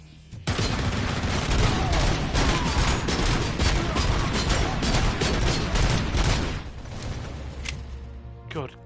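Sustained heavy gunfire from RoboCop: Rogue City, a dense, loud barrage of shots and booms that continues for several seconds, then eases into quieter mechanical sounds near the end.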